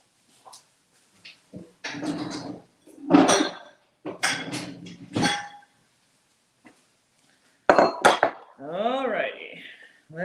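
Dishes and bowls clink and clatter in short bursts with pauses between, close by, and a brief ringing scrape near the end.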